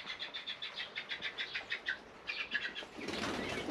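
Birds flutter and flap inside a covered aviary at a campsite, a rapid series of wingbeats with soft chirps, close and fairly quiet, ending in a louder rustling burst.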